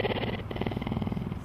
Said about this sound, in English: lesser cats like cougars because they can purr but cannot roar